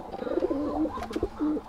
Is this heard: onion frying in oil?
no